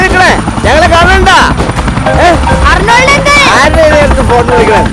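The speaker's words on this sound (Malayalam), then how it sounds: "ഹെലികോപ്റ്റർ ഇവിടെ ഇറക്കണേ" A helicopter in a comedy film scene makes a loud, close, rhythmic rotor chop throughout, with voices talking over it.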